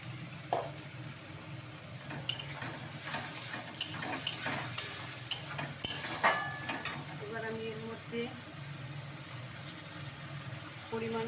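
Food sizzles in a frying pan while a spatula scrapes and stirs, with clicks and clanks against the pan as a little water is poured in, a steady frying hiss under the repeated stirring knocks.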